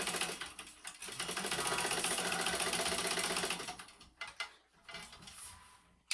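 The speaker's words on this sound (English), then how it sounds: "Just continue sewing right over that, back stitch, and then continue sewing" A home sewing machine runs close up while back stitching on a fabric clutch, giving a rapid mechanical clatter that hums steadily, then breaks into short stop-start bursts of stitching with brief pauses.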